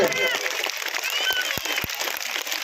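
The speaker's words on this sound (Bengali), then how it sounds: "হাততালি দিয়ে আমাদের অতিথিদের স্বাগত জানাবেন।" Audience clapping to welcome guests at a school ceremony, a dense, steady wash of applause held at an even level throughout.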